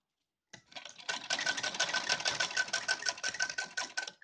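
A sewing machine stitches lace onto dhoti cloth in a steady, rapid, close mechanical chatter that runs without pause for about four seconds after a short silence.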